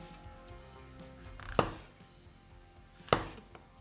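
Two crisp knife strokes slicing mushrooms into thick quarter-inch slices on a cutting board, each a sharp close thunk about a second and a half apart, with soft handling noise between.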